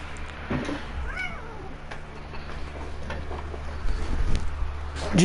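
Cat meowing in Red Dead Redemption 2, a few short rising and falling mewing cries spread across the clip, including one near the end, over low game background noise.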